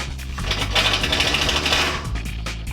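A power drill pre-drills holes for self-tapping ground screws during an off-road Chevrolet Suburban build, giving a steady close whirring grind with a brief higher-pitched whine in the middle, with no talking.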